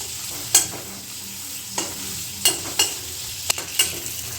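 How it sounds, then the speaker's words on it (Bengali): Chopped chilies, dried chilies, ground black pepper and chopped ginger fry in butter, giving a soft, steady sizzle broken by several sharp scraping stirs of a utensil against the pan. "তারপর দিয়ে দিচ্ছি কুচিয়ে রাখা আদা। এটাকে আমরা একটুখানি ভেজে নেব।"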